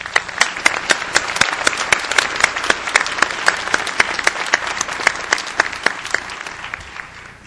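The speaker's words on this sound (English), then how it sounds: "Let's give a round of applause." An audience at a South Dakota School of Mines fall 2009 commencement ceremony gives sustained, dense applause, close and loud, with sharp individual claps standing out before it thins near the end.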